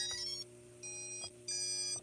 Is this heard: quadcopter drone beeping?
yes